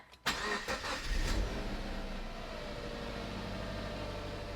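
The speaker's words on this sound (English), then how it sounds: "What I'm going to do is start the car." A car engine cranks briefly and catches after its fault codes are cleared, then settles into a steady, even idle close to the microphone.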